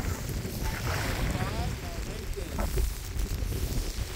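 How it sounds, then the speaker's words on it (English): Gusting wind buffets the microphone in a constant low roar in rain and cold aboard a women's rowing team boat, with water and boat noise mixed in and a voice faintly underneath. "in the rain, in the wind, in the cold"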